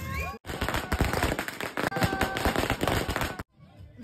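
Firecrackers burst in a loud, dense barrage of cracks and bangs during a celebration in India, continuing almost without pause for about three seconds before cutting off, with voices and crowd noise mixed in.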